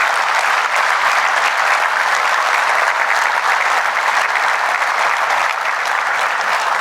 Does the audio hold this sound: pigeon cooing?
no